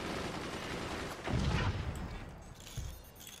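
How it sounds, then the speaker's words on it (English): An AP sniper shot fires in the strategy game Forts: one sharp, heavy crack rises out of steady background noise, followed by a smaller burst a moment later. "AP sniper shot"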